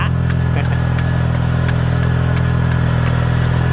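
Rice transplanter working a field planting Nan 59 glutinous rice: a loud, steady engine drone close by, with an even, regular ticking beat running through it and no break in the sound.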